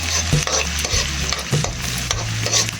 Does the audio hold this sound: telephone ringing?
no